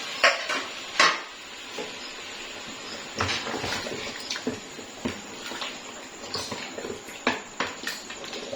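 Oil being stirred into cooked beef paya in a pot brings repeated scraping and clinking of a spoon against the metal, with wet sloshing between strokes, close and irregular.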